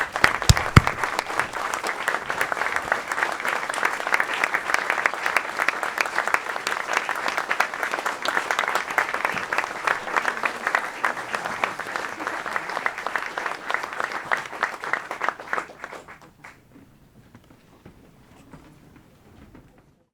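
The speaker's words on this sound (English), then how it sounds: "If everybody would stand up and let's applaud for Richard Scheckman, okay?" A large standing audience at a celebration event claps steadily and loudly for about fifteen seconds, then the applause fades out to near silence.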